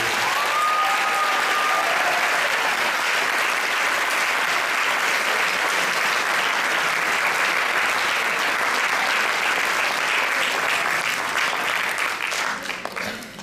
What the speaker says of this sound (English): let's give a round of applause to all of these students